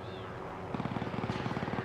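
Helicopter in the Warzone video game, a rapid rotor chop that starts after a brief pause and pulses steadily at close range, loud and unmasked by voices.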